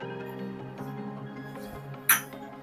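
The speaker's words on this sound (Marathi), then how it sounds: "इथे मी एक मिक्सरचा भांडा घेतलेला आहे त्यामध्ये तळलेला कांदा काढून घेऊया" Fried onion is scooped into a steel mixer jar, mostly quiet handling with one sharp metallic clink near the end.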